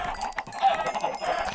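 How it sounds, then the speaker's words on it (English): Chickens clucking in Minecraft, a short burst of blocky game clucks, fairly close and clear with no talk over them. "I'm killing all these chickens"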